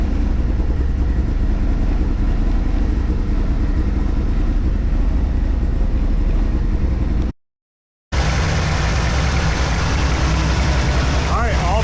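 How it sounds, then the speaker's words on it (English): A turbocharged second-generation Mitsubishi Eclipse engine idles steadily with its exhaust leak repaired, a continuous low rumble that cuts out briefly before resuming, with faint voices in the background. "Locking hardware down there sounds a lot better already, so at this point now, we'll let it run"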